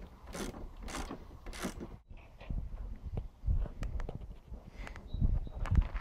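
Krauser K5 topcase mounting being tightened on a Suzuki Bandit 650 motorcycle, a run of close mechanical clicks and ratcheting ticks with scraping handling noises, preceded by brief rustling.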